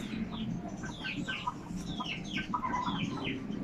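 Newly bought native chickens, RTL Zampen birds, cluck and chirp in a pen, with overlapping short calls from several birds against a steady outdoor background.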